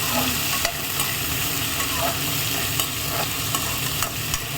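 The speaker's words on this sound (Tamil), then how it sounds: "இது கத்திரிக்காய் வதக்கல். ஆமாம்மா, பச்சை மிளகா போட்டு வதக்கிருக்கேன்." Eggplant sizzles and crackles steadily in a hot pan, with a continuous frying hiss and occasional clicks of stirring, close up and without talk.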